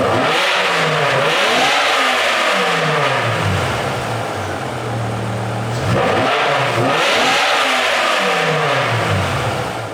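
BMW E60 M5 V10 with upgraded headers and an FI exhaust revving hard in repeated rising and falling sweeps, loud and close with no talk.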